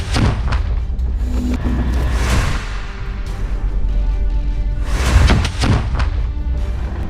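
A barrel bomb explodes during fighting in Khan Yunis, Gaza, with a deep booming blast and heavy rumbling that rolls on at high volume before a second surge of noise.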